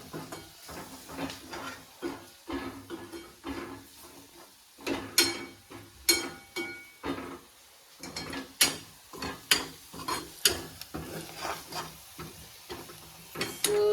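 Mushroom curry stirred and mixed in a pan: repeated scraping strokes of a spoon against metal in an uneven rhythm, with a faint sizzle underneath and no talking.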